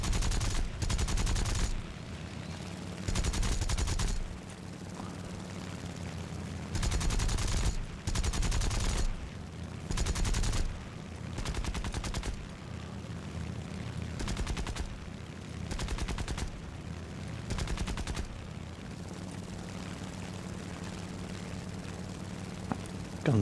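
Aircraft machine guns chatter in repeated bursts in War Thunder, an Imperial Japanese Air Force fighter firing short volleys over a steady engine drone, loud and close with brief pauses between strings of rounds.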